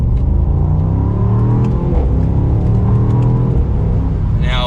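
A 2022 Mercedes-AMG SL63 roadster pulls away from second gear in Sport S mode with the exhaust opened, its engine note rising steadily under mild acceleration, close and loud throughout.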